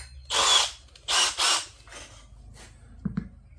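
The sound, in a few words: power drill with 70mm hole saw cutting plastic wheelie bin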